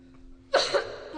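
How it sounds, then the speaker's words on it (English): A single sharp cough bursts out after a quiet moment, followed by a lingering echoey tail as the sound rings in the room. "The reverb on that cough."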